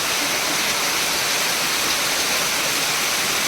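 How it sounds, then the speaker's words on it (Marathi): A dense, steady roar of heavy rain pours down without pause on a metal-sheet roof, loud and close, like a torrential downpour. "वरती पत्रे असून सुद्धा एवढी झड येतात विचार करा केवढी मोठी सर आहे"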